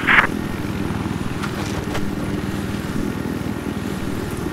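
A Little Bird helicopter in Battlefield 4 thumps with a steady, continuous rotor drone that runs through the whole stretch, with a brief sharp game sound at the start.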